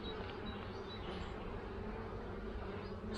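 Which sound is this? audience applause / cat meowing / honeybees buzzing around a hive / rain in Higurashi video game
honeybees buzzing around a hive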